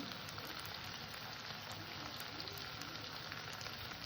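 Hand-mixed Bhola fish curry fries in a pan with coriander leaves, a steady close sizzle and crackle that continues evenly throughout.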